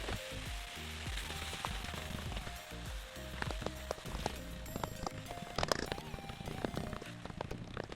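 Ground beef and chopped carrot fry in a pan for beef lumpiang shanghai, giving a steady, moderately loud sizzle with crackling pops and background music playing throughout.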